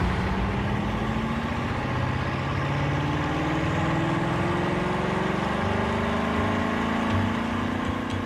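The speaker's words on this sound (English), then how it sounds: "To prove the engine's metal, they run it for 25 hours straight at full throttle." A powerful car engine roars steadily at full throttle on a test run, loud and continuous, with a slowly rising drone and no voices.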